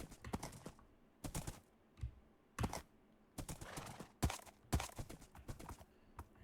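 Horse hooves clip-clopping in the Minecraft Create Mod video game, sharp irregular clusters of quick taps separated by short quiet gaps, fairly close and with no voice over them.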